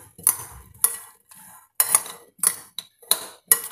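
A spoon stirs corn chaat ingredients in a bowl, giving about seven sharp metallic clinks and scrapes at an irregular pace. Each stroke is close and fairly loud against silence, and no one speaks.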